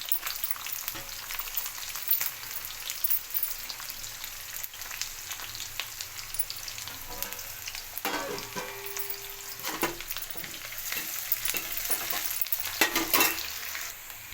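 Onion dropping into hot oil with cumin and mustard seeds, a steady broadband sizzle of frying with occasional stirring clinks and scrapes, close and continuous with no voices.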